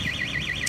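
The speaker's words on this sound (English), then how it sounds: "there's a alarm van being serviced over there in the tyre shop, which is now going off" A van's alarm goes off inside a tyre shop, its electronic siren sweeping up and down in a fast, regular warble, loud and steady with no talking over it.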